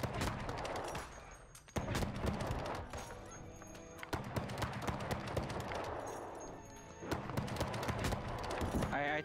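Booming cannon and gunfire blasts ring out during a New World Syndicate versus Covenant siege war, dense repeated impacts over a constant roar of battle, with voices chattering underneath throughout.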